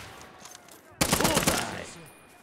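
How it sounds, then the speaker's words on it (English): Enemy machine gun opens up in Gates of Hell: Ostfront, a sudden loud sustained burst of rapid gunfire lasting about a second, then fading into a tail over quiet ambient battlefield noise. "Enemy machine gun."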